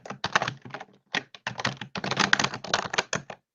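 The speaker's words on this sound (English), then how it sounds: "I can hear you typing" A computer keyboard is typed on in quick, irregular clusters of close key taps, heard over a call.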